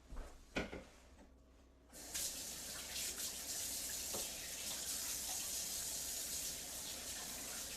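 Faint clicks and knocks give way to a steady gush of tap water running into a sink for handwashing, continuing loud and even to the end.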